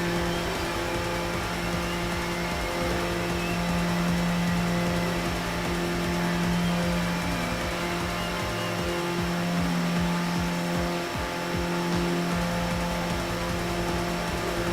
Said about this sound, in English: It's accelerating uphill.